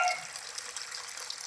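Steady, soft rush of clear water flowing from a natural spring on a rural farm lot in Liliw, Laguna, a continuous even trickle heard alone without voices.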